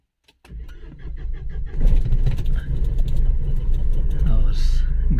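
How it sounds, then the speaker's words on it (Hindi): A car engine cranks and catches, then settles into a steady, close idling rumble that grows slightly louder and runs without a break to the end. "और मैं गाड़ी को स्टार्ट कर देता हूँ अब"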